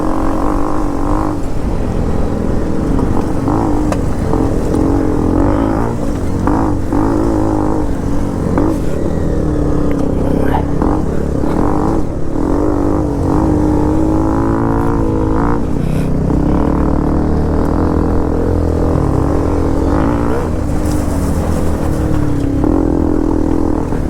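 A Hero XPulse 210 off-road motorcycle ridden hard on rough terrain, its engine droning loud and close for the whole stretch, revving and shifting continuously with no pauses.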